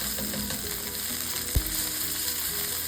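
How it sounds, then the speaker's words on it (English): Salmon fries in a pan with butter, producing a continuous close sizzle and crackle with one brief thump partway through; nobody speaks. "gonna throw in a little pat of butter after this heat's come down"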